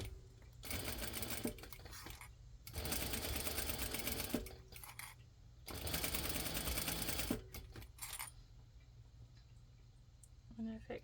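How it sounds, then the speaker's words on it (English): Sewing machine top stitching fabric for a Christmas cat stocking, running in three long steady bursts of rapid mechanical stitching with brief pauses between, close and fairly quiet. "I'm gonna just top stitch this so that I'm about 1/8 of an inch away from the edge of the material."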